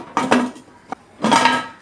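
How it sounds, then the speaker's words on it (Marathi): A metal pressure cooker lid, fitted without its rubber gasket or whistle, goes on with a few close clanks and scrapes of metal on metal, the last a longer grinding rattle as it locks. "आणि आता कुकरचं झाकण लावून घेते."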